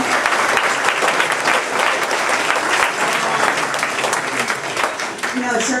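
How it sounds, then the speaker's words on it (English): A crowd claps continuously at a Christmas event, with dense, even applause running throughout and a faint voice or cheer near the end. "Another round of applause"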